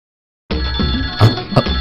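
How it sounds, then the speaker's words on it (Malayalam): A telephone rings steadily for over a second in a film scene, starting abruptly after silence, with a couple of louder knocks or thumps partway through. "ഫോൺ ബെല്ലടിക്കുന്നു"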